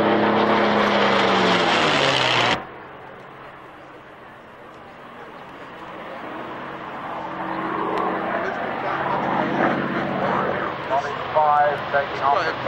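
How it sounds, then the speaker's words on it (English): Propeller-driven Mustang fighter planes taking off from a grass strip at the Duxford Flying Legends airshow, engine roar building gradually from faint to loud, with a louder burst of noise at the start and a crowd murmur in the background. "Taking off the grass, that's that lot on the runway, there's more Mustangs."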